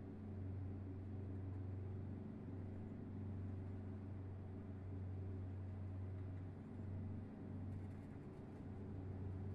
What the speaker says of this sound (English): for the default engine sounds, the truck actually does sound really decent